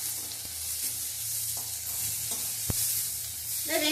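Onion and green chillies sauté in a pan over low heat, a soft steady sizzle with occasional light scrapes and a single sharp clink of the spoon against the pan near the end.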